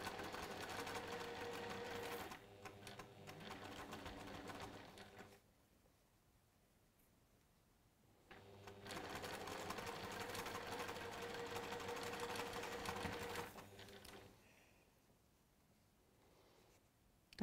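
A sewing machine stitches fabric pieces together in pairs, whirring steadily in two long close bursts separated by a quiet pause.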